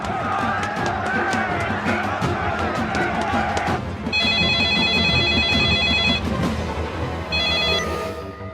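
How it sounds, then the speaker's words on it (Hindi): A telephone rings in bursts of bright electronic tones, loud and close, over a busy background of crowd noise and voices in a Bhojpuri film scene. "नंदू के फोन आइल रहे"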